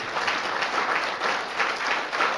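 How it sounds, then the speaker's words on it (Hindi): An audience at a conference in Haridwar claps loudly, a dense, even burst of applause that holds steady at full strength for the whole moment with no voices. "जोर से ताली बजाइए।"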